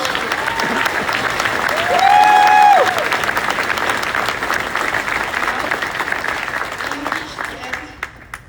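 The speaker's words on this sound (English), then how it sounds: "Let's have a round of applause for the fans and the fan questions." A crowd applauds at a Goonies fan expo panel, sustained loud clapping that swells briefly, with an amplified voice and a faint ringing tone drifting over it before the clapping thins toward the end.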